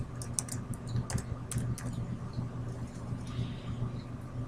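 A computer keyboard clatters with a quick burst of keystrokes as a cell range is typed into an Excel spreadsheet, then a few scattered taps over a faint hum.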